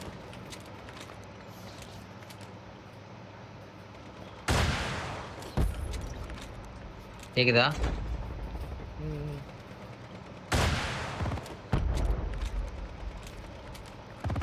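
Gunfire in a Call of Duty Mobile match comes as a few sharp bursts and rattling volleys spaced among quieter stretches, with brief talk in between.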